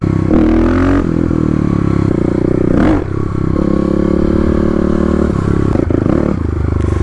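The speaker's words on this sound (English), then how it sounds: "we'll go ahead and try some clutch ups" A Kawasaki KLX351 dirt bike revs hard for clutch ups, its engine roaring and rising in pitch in loud bursts with a brief dip midway, some clatter and scraping mixed in.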